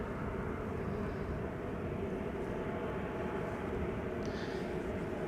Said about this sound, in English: Next airplane coming in is a 737